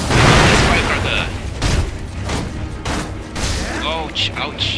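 Firecracker bursting in Sekiro: Shadows Die Twice, a loud crackling pop followed by sharp, repeated snapping bangs and combat clatter over a few seconds.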